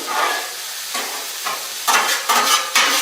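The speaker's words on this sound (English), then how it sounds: "I'm going to mix these all up" Hash browns in butter crackle and hiss on a Blackstone griddle as they are mixed with a spatula, the sizzle surging in loud bursts with each turn, close up and without speech.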